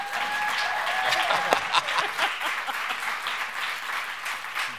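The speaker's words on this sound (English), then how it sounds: "So if we can give a round of applause to Lori and David." Audience applause at the close of a conference session on remote work, many people clapping steadily with a faint whistle and some voices mixed in underneath.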